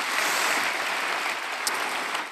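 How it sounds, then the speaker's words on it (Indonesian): Members of a church congregation applaud during a sermon, a brief, even wash of many hands clapping together with no speech. "Berikan tepuk tangan kita untuk Tuhan kita."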